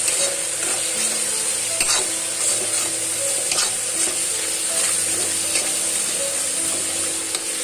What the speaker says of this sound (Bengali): দিয়ে একটু আমি এটা নাড়তে থাকবো।